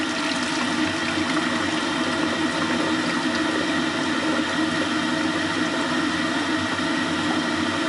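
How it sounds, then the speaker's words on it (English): Acid solution poured off gold ore from a Colorado gift shop into a container, a steady, continuous liquid rush and trickle with a broad hiss, close and even in level throughout with no pauses. "I'm going to pour off the acid, at least carefully, trying not to get any of the solids down."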